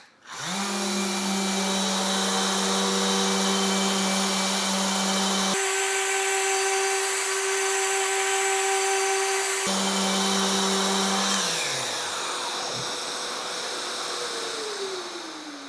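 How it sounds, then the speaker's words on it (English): A Festool ETS orbital sander works over plywood veneer, a steady loud motor drone with a strong low hum, dipping briefly mid-pass and winding down near the end, with no talk. "So let's sand this and see how long it takes for me to burn through that veneer."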